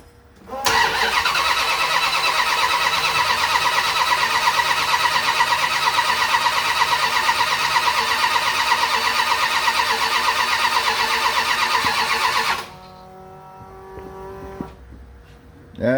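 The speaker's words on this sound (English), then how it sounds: "That light's flashing as it's turning over, so it's firing." A 1979 Dodge D100 with a thumper carb cranks over and fires, a loud continuous engine roar lasting about twelve seconds before cutting off abruptly, leaving quieter background sound.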